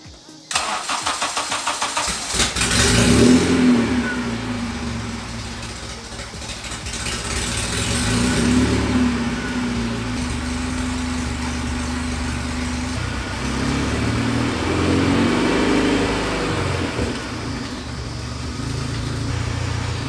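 A freshly swapped Honda K24 engine in an EK chassis cranks and fires for its first start, then settles into a rough idle and rises with several revs, loud and close throughout.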